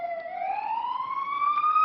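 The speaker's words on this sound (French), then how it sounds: "Arrive une ambulance, la première à parvenir jusqu'ici." Ambulance siren arriving through a war-damaged old town, a steady rising wail that swells as it approaches, loud and alone without voices.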